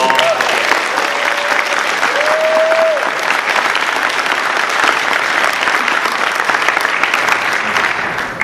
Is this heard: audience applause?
yes